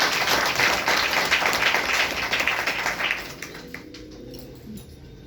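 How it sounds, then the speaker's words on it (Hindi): A crowd gathered with school teachers bursts into loud, dense applause that carries for about three seconds, then thins and fades into scattered claps and room murmur. "एक बार उनके लिए जोरदार ताली।"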